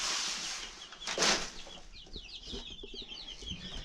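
Chickens and turkeys clucking and chirping nearby around feed, with a burst of wing flapping, a busy continuous barnyard chatter.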